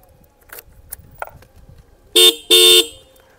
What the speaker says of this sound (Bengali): যথেষ্ট আওয়াজ আছে হর্নটার, কারণ এটা ডুয়েল হর্ন